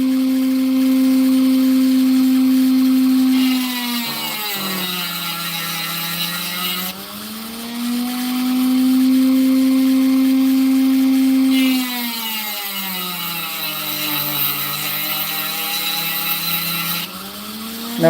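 A saw cuts stone in a steady, loud whine with harmonic overtones that dips in pitch as the blade bites in and then recovers, repeating over three long passes.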